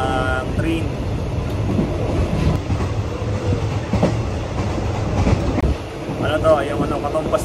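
Train ride in Thailand out of Bangkok on a long-distance line, steady rumbling wheels and clattering rail noise heard from inside the carriage, continuous throughout.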